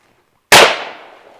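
A single loud, sharp rifle shot cracks out during an Assam Rifles firing drill, following brief silence and ringing off in a decaying tail.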